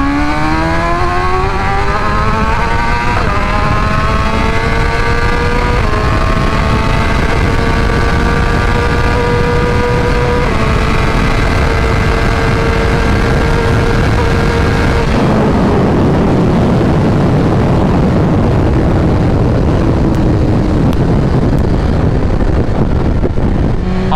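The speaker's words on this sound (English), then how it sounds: "All right, M1000XR, let's get that 60 through 130. Let's put it in a race mode here." A 2024 BMW M1000XR motorcycle in race mode accelerating hard from 60 to 130, engine climbing in pitch through several gear shifts, loud and close with heavy wind roar throughout.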